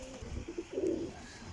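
Pigeons cooing in a loft of strong, well-kept birds, a few soft low coos close by in quick succession.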